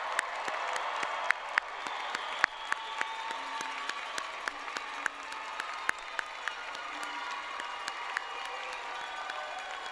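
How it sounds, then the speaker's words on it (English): Audience applause for graduating nursing students at a convocation held in a performing arts center, a steady wash of clapping from a large crowd heard at a distance, with occasional sharper claps standing out. "So now I invite everyone to join me in a round of applause for all of our"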